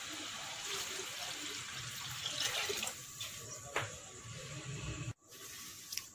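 About one and a half glasses of water stream steadily into a pot of beef karahi with a hissy, splashing pour, fairly quiet, ending abruptly near the end.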